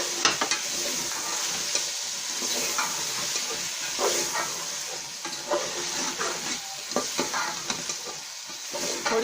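Potatoes frying for a mixed vegetable curry while being stirred in the pan, a steady close sizzle broken by the repeated scrape and clatter of the spoon, with no voices.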